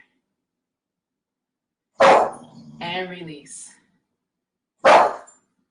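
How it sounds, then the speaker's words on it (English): Two sharp dog barks a few seconds apart, near and loud, with a person speaking briefly between them. "Barking dog."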